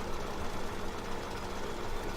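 A tractor engine idles in Farming Simulator 17, a steady, loud, continuous rumble with a slightly knocking texture and no speech over it.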